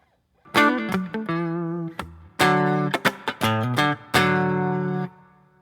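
An electric guitar plays a riff as a series of distinct, clear plucked notes and chords with short gaps between them, alone and without any voices.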